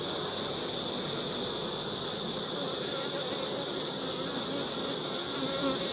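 Honey bees buzz steadily and densely at close range throughout, a continuous droning hum with no pauses, recorded while a beekeeper checks a hive for a small swarm and splits in Jamaica.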